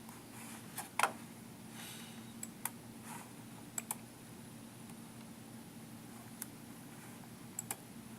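Sparse, quiet computer mouse clicks, a handful of sharp isolated ticks spread over several seconds against a faint steady room hiss.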